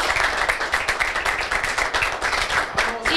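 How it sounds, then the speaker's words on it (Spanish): Dense, steady applause from a crowd at Telenord.com.do's ninth anniversary celebration, many hands clapping at once and filling the room loudly for about three seconds. "Gracias para Don Ides y un fuerte aplauso para usted también."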